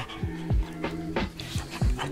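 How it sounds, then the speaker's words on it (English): A dog pants in quick, rhythmic breaths with small whimpers mixed in, close and fairly soft, with no one talking. "Sorry about my dog."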